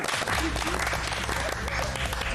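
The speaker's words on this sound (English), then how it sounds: "A round of applause for Shaban" Studio audience at a television game show applauding a contestant, a loud, continuous wash of clapping with voices and cheering mixed in throughout.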